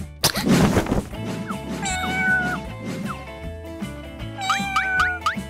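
A cat meows several times in loud, drawn-out, wavering calls, with a sharp knock near the start and a low background hum, and no one talks.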